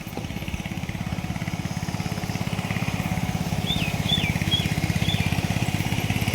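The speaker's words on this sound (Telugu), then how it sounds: "ట్రాక్టర్తో దున్నుతున్నారు," A tractor ploughs a village field beside a home among coconut trees, its engine chugging in a steady, even putter at moderate distance, with a few bird chirps rising above it.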